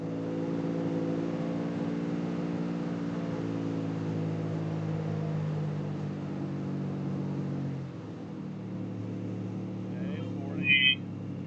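A Honda J35 engine idles after a fuel adjustment with a steady low hum that drops slightly near the end. It sounds close and moderately quiet, with a faint high chirp at the end.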